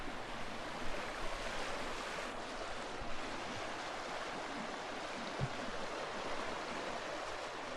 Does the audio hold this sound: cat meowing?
no